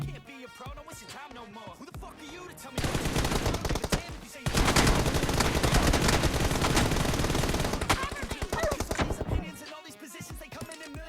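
Rapid automatic gunfire in PUBG Mobile, long loud bursts of dense shots after a few scattered earlier rounds, near and sustained before tapering to a few final shots.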